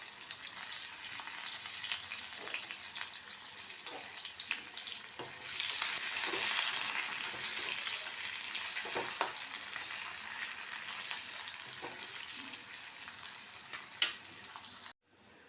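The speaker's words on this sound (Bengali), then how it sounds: "এবার দিয়ে দিলাম একটা পেঁয়াজ, একটু সরু করে কেটে নিয়েছি" Thinly sliced whole onion frying in a pan of hot oil with bay leaf, cinnamon, cloves and black cardamom, a steady loud sizzle with occasional stirring scrapes and clicks, no voices.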